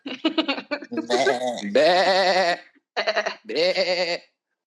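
A voice imitates sheep bleating in several wavering, bleat-like bursts with short pauses, close and fairly loud.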